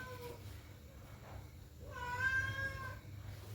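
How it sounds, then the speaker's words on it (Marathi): Close by in a home kitchen, a cat gives a few drawn-out, wavering meows, loudest near the end, while quiet background noise runs underneath. "अरे मांजरानो"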